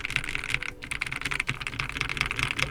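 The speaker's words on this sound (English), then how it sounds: "typing on this one actually feels pleasant" Rapid, even keystrokes clatter on a lubed Endorfy Thock V2 Wireless mechanical keyboard, close and continuous with a brief pause, no voices.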